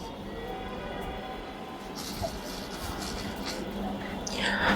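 Inside a metro rail carriage, a low steady rumble and hum of the moving train continues, with faint brighter hiss and clatter rising toward the end.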